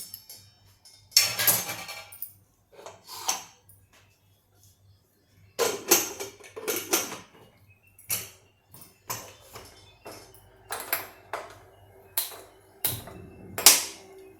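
A metal oil wok (kadhai) is set onto a gas stove in a home kitchen, giving a series of sharp clanks, knocks and brief scrapes spaced across a quiet room.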